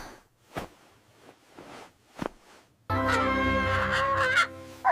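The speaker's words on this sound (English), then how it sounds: "Cock-a-doodle-doo." A rooster crows loudly and alone, a long sustained call filling the second half after a few quieter scattered sounds.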